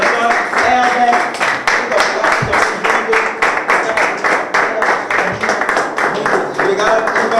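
Audience applause for a pastor at a church gathering in Angola, with steady dense clapping through the whole stretch and a voice talking over it.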